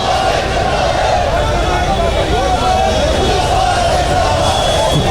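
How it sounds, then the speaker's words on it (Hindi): A large crowd gathers at India Gate for a candle march, a dense, constant babble of many voices filling the space at close range without letup. "आज तो भारी भीड़ है"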